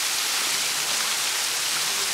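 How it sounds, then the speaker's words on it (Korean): Steady, loud roar of a waterfall on Ganwolsan mountain in Ulsan, a dense, constant rush of falling water and spray that fills the whole clip with no pauses or voices. "이 폭포 소리 이 힐링 그 자체 아니에요?"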